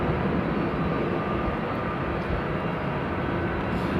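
A Delta airliner takes off at Amsterdam Airport, a steady broad jet roar heard from a distance, filling the whole stretch without voices.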